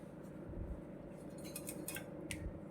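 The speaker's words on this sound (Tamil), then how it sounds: "இது வந்து பாருங்கள், மீன் நறுக்கிறோம்." A yellow paarai fish is being cut in a kitchen: a few crisp metallic snips and clicks from the blade come close and fairly quiet over a steady low background hum.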